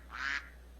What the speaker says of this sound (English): Fucking duck, man. He's so loud.